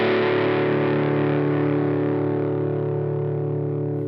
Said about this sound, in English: Play like just a D, open D.